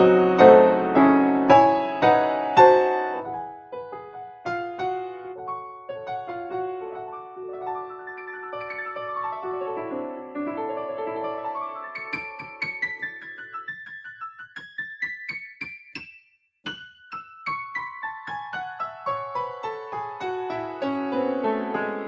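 A Bösendorfer piano voice on an electric keyboard plays a solo passage: clear struck notes and chords ringing out, with runs and sustained tones across the whole stretch, no voices.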